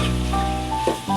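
Chicken being browned in a pan for a chicken and chana dal curry, a steady close sizzle with stirring scrapes and a brief louder hiss near the end, no voices.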